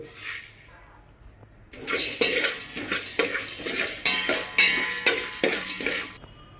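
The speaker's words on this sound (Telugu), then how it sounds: "రెండు కలిపి మళ్ళీ ఒకసారి వేగించుకుందాం ఒక యాభై గ్రాముల మినపప్పు యాభై గ్రాములు ధనియాలు" Urad dal and coriander seeds roasting together in a pan, with repeated scraping and clattering of a metal spatula against the pan in bursts over a faint background hiss.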